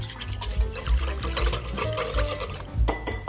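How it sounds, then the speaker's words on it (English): Salad dressing poured from a small container onto a rainbow salad, producing close, wet, uneven trickling and glugging with soft knocks, and no talking. "I'm just gonna pour that right into my salad here"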